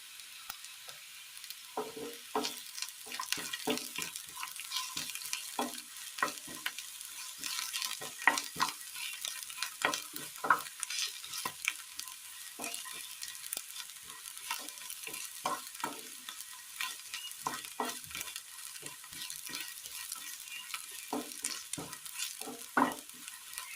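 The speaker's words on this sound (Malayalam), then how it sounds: "ഇഞ്ചി പച്ചമുളക് വെളുത്തുള്ളി ചെറിയുള്ളി എന്നിവ ഒന്ന് പാടി വരുമ്പോൾ ഇതിലേക്ക് ഒരു ചെറിയ പീസ് കായം ഇട്ട് കൊടുക്കാം" Ginger, green chili, garlic and shallots sautéing in hot oil with a small piece of asafoetida added, a steady soft sizzle broken by frequent scraping stirs of a spoon against the pan, no voices.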